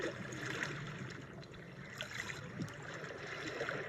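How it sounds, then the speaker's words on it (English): Soft trickling and gurgling water in a video game zen garden flows gently and steadily, fairly quiet, with light splashes and no talking. "The sounds that you hear, which is the gentle flow of water, were all sourced meticulously"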